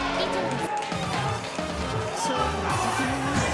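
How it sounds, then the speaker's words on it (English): A crowd roars and cheers at a fighting game tournament, a continuous excited din under an animated commentator talking throughout. "And the crowd is popping off."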